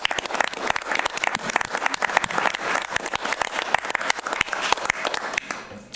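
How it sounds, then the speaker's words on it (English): Audience at a Common Council meeting applauds the Tiger Battalion color guard: dense, steady clapping from many hands that holds for several seconds before thinning out at the end. "So another round of applause for the Tiger Battalion."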